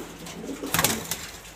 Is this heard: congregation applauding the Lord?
no